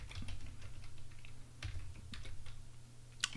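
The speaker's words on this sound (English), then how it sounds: "Just go on Google and type in" Keys tapping on a computer keyboard as a search is typed, a quick scatter of light clicks over a low steady hum, ending on one sharper keystroke.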